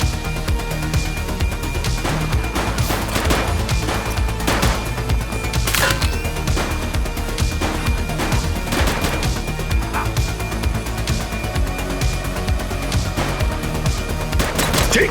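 Police-drama gunfire: a sustained fusillade of loud, rapid shots and bursts running through the whole stretch, dense and close, with sharp cracks standing out over a constant noisy background and no talking.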